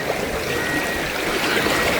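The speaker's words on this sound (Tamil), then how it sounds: "பயங்கரமாக ஓடுது தண்ணி" Fast-flowing river water near a bridge under construction, a dense, steady rushing roar filling the whole span without a break.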